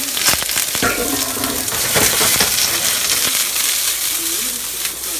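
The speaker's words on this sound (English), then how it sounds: "Go ahead and toss in our julienne peppers." Julienned peppers sizzling loudly in hot oil in a sauté pan, a steady crackling fry with clinks and stirring scrapes near at hand.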